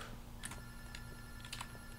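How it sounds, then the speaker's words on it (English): A telephone rings faintly in the game Minecraft, a few short trilling bursts sounding quietly, with no voices. "Phone call. Actually hear it this time."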